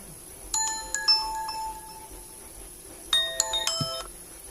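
An Acer M220 Windows phone rings with an incoming call, two short bursts of a bright chiming melody separated by a pause, playing over a faint room hiss.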